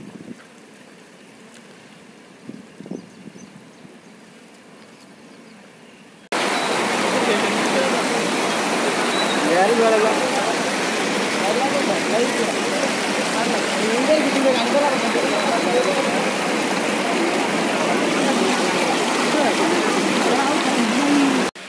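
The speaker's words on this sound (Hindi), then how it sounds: "किस तरह वो पानी वहाँ से बाहर आ रहा है" Floodwater pours out of submerged buildings during heavy rain in Bapgaon. After a quiet start with a few soft sounds, a loud, steady rushing roar begins abruptly and carries on unbroken, like a waterfall.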